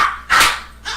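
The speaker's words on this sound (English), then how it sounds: "Now we got the dog." A dog barks loudly and close by, one sharp bark between shorter yips in a quick burst.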